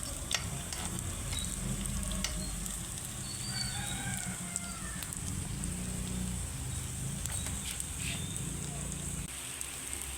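Eggplant burger patties frying in a pan, giving a steady, fairly loud crackling sizzle that runs unbroken from start to finish, with no voices over it.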